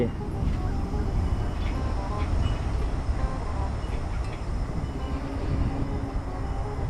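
A long Alstom locomotive-hauled freight train of oil tank wagons rumbles past close by and comes to a stop, a steady low roar of heavy wagons on the rails, with faint voices underneath.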